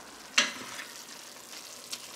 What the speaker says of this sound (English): I'm just cooking up my ground beef here